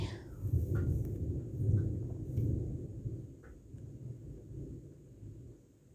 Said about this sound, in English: this storm might be scaring me